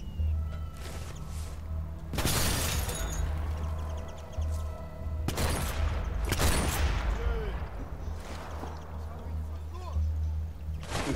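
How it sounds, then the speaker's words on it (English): Grenade blasts in the Sniper Elite 4 video game, with broad bursts near 2 s, 5.5 s and 6.5 s over a steady low engine-like hum, and speech mixed in between. "Just gonna throw another grenade."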